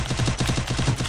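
Rapid gunfire in a multiplayer shooter video game: a quick, steady burst of shots fired in close succession, fairly loud and heard with no talk over it.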